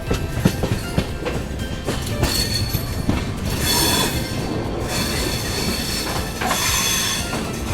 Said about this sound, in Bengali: আমাদের ট্রেন উমেদপুর জংশনে এন্ট্রি করে গেছে